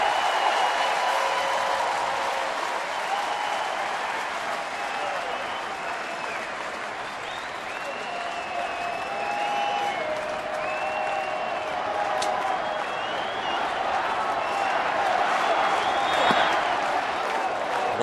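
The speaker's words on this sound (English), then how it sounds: "Listen to this at times deafening crowd when they get into the Let's Go Bucks chant." Large baseball stadium crowd at a Pittsburgh game applauding and cheering in a dense, continuous roar of clapping and voices, loud and sustained, with whistles rising above it.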